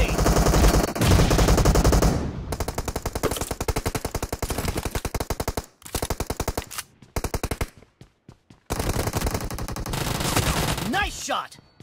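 Rapid automatic gunfire from the PUBG Mobile battle royale game, played on an iPhone X at 60fps: loud, dense bursts of shots fired in quick succession, with brief pauses between volleys and a short gap near the end.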